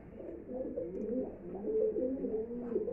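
An old domestic pigeon, about four years old and kept at a home loft, coos in a continuous, warbling, low-pitched stream, close by and fairly soft, with no talk over it.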